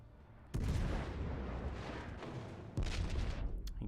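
Naval guns fire in the World of Warships: Legends battleship game, a North Carolina among the ships, with heavy booming blasts at the start and again near the end, followed by a dense, rumbling wash of noise.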